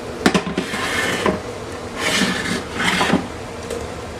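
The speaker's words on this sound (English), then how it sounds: "Now this is going into a roasting pan." Raw turkey pieces are set into a roasting pan with a series of soft clunks, scrapes and rubbing sounds against the pan, close and moderately loud, with no talking.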